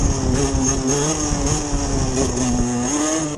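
A 50cc motorcycle engine held at a steady mid-range rev while preparing for a wheelie, producing a continuous buzzing drone with slight wavering in pitch and no speech.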